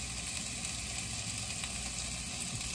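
Food sautéing in a hot pan gives a loud, steady sizzle with no break from start to finish, and no voices.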